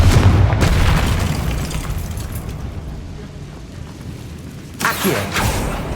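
A Confringo blasting spell in Hogwarts Legacy explodes with a loud boom and rumbling decay, followed by another burst near the end, with a voice in the game.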